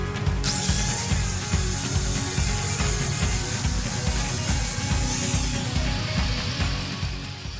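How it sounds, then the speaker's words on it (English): Angle grinder working the curved ends of steel tubing for go-kart suspension arms, a steady, loud grinding hiss with a pulsing low rumble that runs continuously throughout. "Here I'm just grinding out a curved section on the ends of the suspension arms"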